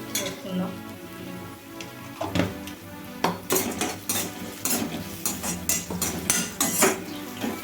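Onions frying and stirred in a pan for a Telugu-style bottle gourd fry, with a spoon clattering and scraping against the pan in repeated bursts over a low sizzle, close and fairly loud.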